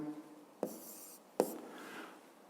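A pen writes a physics solution, making two sharp taps and faint scratching strokes on paper, close and quiet in a hushed room.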